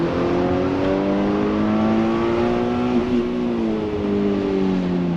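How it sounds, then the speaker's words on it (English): A race car engine at Lime Rock Park holds a steady high rev with a continuous droning harmonic tone and slight wavering, near and loud throughout, with no voices. "Rev limiter."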